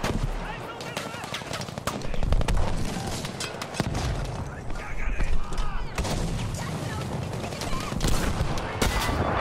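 Bursts of gunfire from a Lewis machine gun in the shooter game Battlefield V, loud and dense over a rumbling battlefield background with repeated shots throughout.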